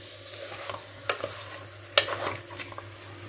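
Chicken curry frying uncovered over a medium flame in a pan: a steady sizzle runs throughout, broken by a few sharp stirring scrapes, the loudest near the two-second mark, with no voices.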